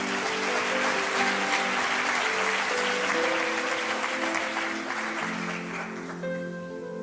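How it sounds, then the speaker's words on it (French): A church congregation claps loudly and steadily for the Lord, a dense sustained roar of applause with a held organ or keyboard chord underneath, tapering slightly near the end. "On peut acclamer très fort pour le Seigneur pour sa vie."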